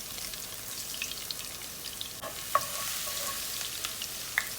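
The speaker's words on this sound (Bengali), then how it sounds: "আমার তেলটা গরম হয়ে গেছে, আমি রসুন দিয়ে দিচ্ছি মাছ ভুনার মধ্যে" Garlic frying in hot oil for a fish curry, a continuous bright sizzle with a few crisp crackles and pops.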